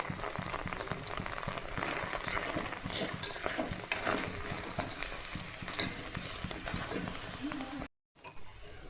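Jaggery is stirred into puran filling in a pan, giving a steady sizzling, scraping bubble of cooking throughout, with a brief drop to near silence near the end.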